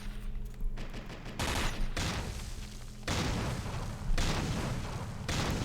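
Gunfire in Close Combat: Modern Tactics during an anti-cartel operation: dense, overlapping volleys of rifle fire and booming reports roll in heavy waves, loud and continuous for several seconds without any talk.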